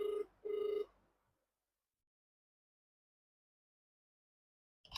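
Two long electronic telephone ring tones on an outgoing call, close and loud, each about half a second with a short gap, followed by silence and a brief click at the end.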